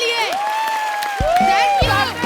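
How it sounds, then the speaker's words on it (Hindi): A studio audience at a comedy talk show whoops, whistles and cheers for about two seconds, with rising and falling whistle tones over a steady crowd roar and some voices mixed in. "एक बार जोरदार तालियां मेरे लिए।"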